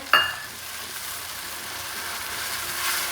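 Coconut oil sizzles with a continuous soft hiss in a pan as kalonji and fenugreek powder are stirred in for homemade hair oil, opening with a small metallic clink.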